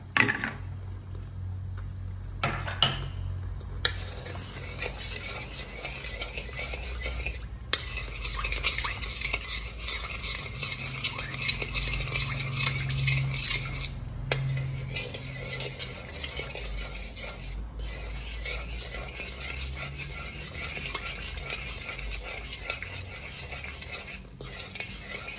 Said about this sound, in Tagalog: i-caramelize na natin yung ating sugar